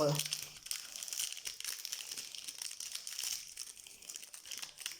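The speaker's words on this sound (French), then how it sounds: "Nous allons ouvrir le prochain booster." A trading card booster pack is torn and crinkled open, its foil wrapper crackling steadily and close for several seconds while a voice talks over it.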